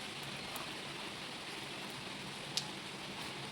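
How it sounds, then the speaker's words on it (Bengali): Steady rain falls in a continuous even hiss during an ongoing rainy spell at home, with one faint brief tick partway through and no talking. "এখনও দেখো হয়ে যাচ্ছে বৃষ্টি"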